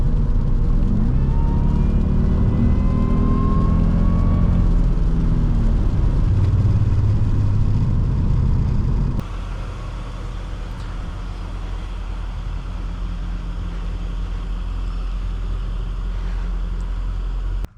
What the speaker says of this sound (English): Today we are driving a 2003 Jaguar S-Type R in our channel.